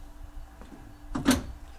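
A Renault Twizy electric car door swings shut with a single sharp latching thud near the end, preceded by a faint mechanical movement, close and fairly loud against quiet surroundings.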